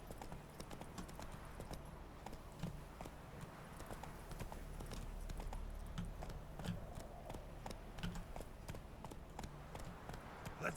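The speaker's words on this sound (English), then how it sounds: "Something wrong with that horse." Hooves of a horse clip-clop in a steady rhythm in the video game Witcher 3, fairly faint and continuous across the stretch, with no voices over them.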